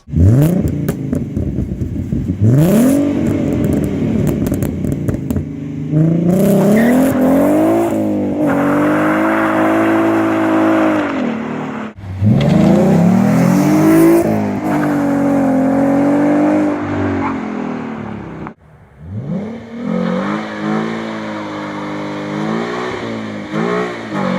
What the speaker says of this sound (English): This exhaust setup has a really mean sound to it that I really do like.